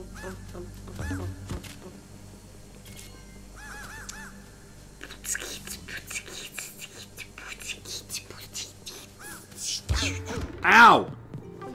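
Goose-like bird honking in Luigi's Mansion 3, a few rising honks near the end standing out over game sound effects and music, with a person talking quietly through earlier parts.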